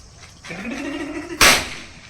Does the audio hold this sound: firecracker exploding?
yes